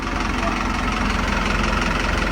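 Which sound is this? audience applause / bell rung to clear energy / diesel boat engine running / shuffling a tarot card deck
diesel boat engine running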